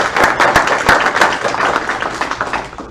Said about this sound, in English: Would you please join me in giving our county executive another round of applause?